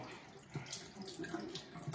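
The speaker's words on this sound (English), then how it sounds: "Get some warm water." Warm water running from a tap into a sink, a soft steady splashing stream with faint clatter, quiet and close.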